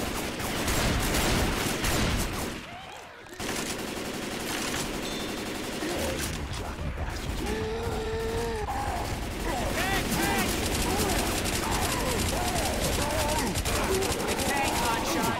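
Rifle fire and heavy gunfire in Left 4 Dead 2, sustained fusillades and rapid bursts running almost continuously, with excited voices shouting over the shooting.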